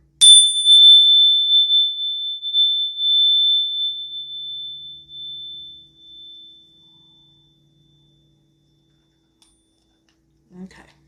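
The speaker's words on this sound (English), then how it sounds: "my bell is a lot louder than my chimes" A bell struck once, ringing out with a clear sustained high tone that slowly fades over several seconds, followed by a brief faint noise near the end.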